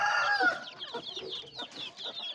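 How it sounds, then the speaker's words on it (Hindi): Young chicks cheer in a dense, high, overlapping chorus of rapid cheeping close by, with no voices over them. "छोटे चूजे हैं"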